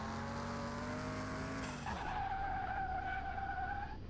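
Tires skid loudly during a brake test in Car Mechanic Simulator 21, a rising engine drone cutting off into a sustained screech of rubber that holds steady until the car stops, with no voices.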